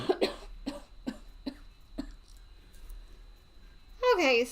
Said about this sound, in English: sorry everybody that's hearing me cough like I'm dying